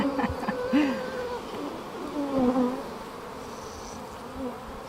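Honey bees swarm around an open hive during an inspection, a close, continuous buzz with individual bees swooping past the microphone in rising and falling drones.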